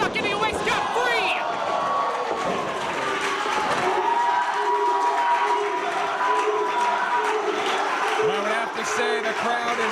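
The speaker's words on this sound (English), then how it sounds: "Say the crowd is now lively. They've woken up, and it's thanks to the Lucha Kings." Crowd at a live pro wrestling event, steady cheering and shouting filling the hall throughout, with a voice talking over it and scattered whoops rising and falling.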